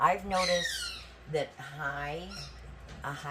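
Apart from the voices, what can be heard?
dog playing with a squeaky toy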